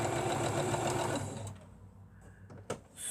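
A freshly cleaned sewing machine runs with a steady mechanical hum and rapid stitching chatter, close and fairly quiet, then slows and stops with a brief clack near the end.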